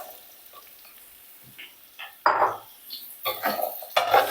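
Garlic and carrots for chicken chow mein cooking in a pan, with a light sizzle and a few clanks of a utensil against the pan that grow busier toward the end, close by.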